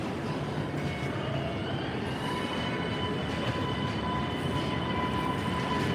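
An MBTA D line train pulls into a station, a steady loud rumble of wheels on rail with faint high squeals running throughout, no voices.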